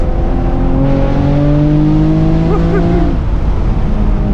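Loud, close V6 engine pulling hard as a Camaro 1LE accelerates in second gear, a steady rising drone with harmonics climbing in pitch over constant road roar.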